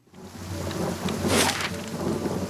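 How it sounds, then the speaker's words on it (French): Steady rain falls with a rolling rumble of thunder swelling in the middle, a continuous stormy wash from the Pillars of Eternity video game with no voices. "Couvrez-vous, mes amis, il pleut."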